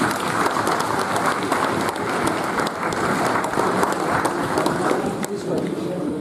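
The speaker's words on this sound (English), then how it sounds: "there's a big round of applause for Henry CCs" A crowd at a cricket league annual awards presentation gives a long, sustained round of applause, a dense wash of many hands clapping continuously and fairly loudly across the hall, with a voice speaking faintly beneath it.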